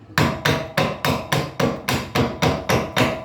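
Hammer blows drive a piece in until it sits tight, ten sharp, evenly spaced strikes landing about every third of a second, loud and close with no voices.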